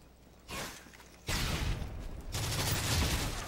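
Sustained automatic gunfire from an enemy weapon in the video game Modern Warfare 3, bursts stacking into dense, loud fusillades with only a brief gap before the firing resumes.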